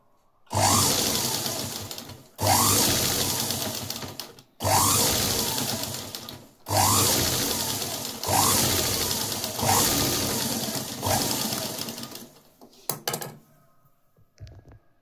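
A sewing machine stitches a blouse lining in six steady, loud bursts of about two seconds each, separated by brief pauses, then a few short clicks and handling noises before it falls quiet.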